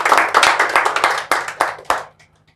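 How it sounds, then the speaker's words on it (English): An audience claps for guests being introduced at a talk, a dense burst of close applause that pulses and then thins out, fading to near silence by the end. "Let's clap for them again"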